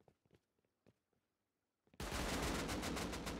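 Dense, continuous automatic gunfire from a firefight in the survival video game Rust erupts suddenly and loudly after a couple of seconds of faint, scattered clicks and taps, then keeps going as a sustained roar of rapid shots.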